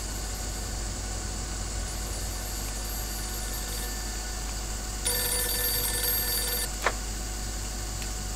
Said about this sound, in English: I'm ringing you because Joe Barbaro gave me your number